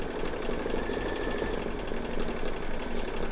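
A sewing machine hums and clatters steadily up close while blanket stitching around the appliqué on a quilted fabric mug rug, a continuous mechanical whir with no talking.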